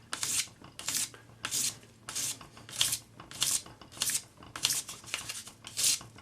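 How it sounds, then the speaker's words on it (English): Short strokes of a 400 grade sanding stick across a metal bezel joint give about nine rhythmic, close rasping rubs, evenly spaced and heard alone. "400 grade paper on your sanding stick"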